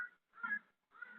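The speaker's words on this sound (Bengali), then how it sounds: "কাক ডাকছে।" A crow cawing outdoors, three short harsh calls spaced evenly and heard faintly from a distance.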